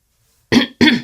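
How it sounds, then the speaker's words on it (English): Two short, sharp coughs in quick succession, close and clear against silence. "Sorry about the cough."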